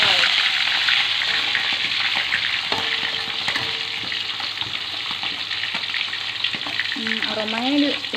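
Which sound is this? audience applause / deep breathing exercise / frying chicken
frying chicken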